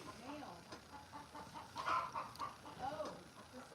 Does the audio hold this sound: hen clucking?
yes